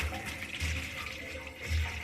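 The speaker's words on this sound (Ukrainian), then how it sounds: "Так, відкриваємо кран, кран на прямому ефірі. Дивимося, чи нас не топить. Так, вода побігла." Water runs from a freshly opened tap into a barrel that is part of a kitchen boiler-room heating setup with a heat accumulator. A steady, moderately faint rush of flowing water continues without pause, with no one talking.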